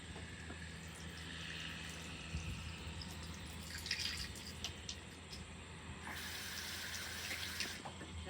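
Running tap water rinses tomato seeds in a sink, a steady splashing stream with brief louder gushes and drips, close and continuous throughout.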